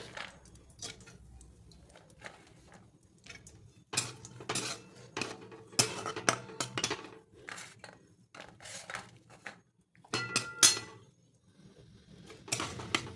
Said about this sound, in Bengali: যথারীতি কাজু কিশমিশগুলো ভাজা হয়ে গেল